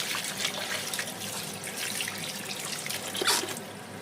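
Tap water runs steadily over cut vegetables being washed in a kitchen sink, a continuous close splashing with small surges and a brief louder splash near the end, with no speech.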